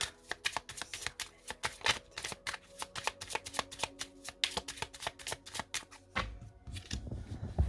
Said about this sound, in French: Allez, on commence par une coupe et ensuite on prend 8 cartes.